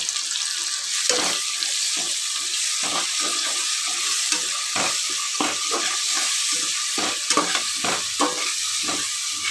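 Tomato paste fries with ginger garlic paste in hot oil for a mutton curry, giving a loud, dense, steady sizzle broken by frequent scraping stirs of a spoon, close up and without speech.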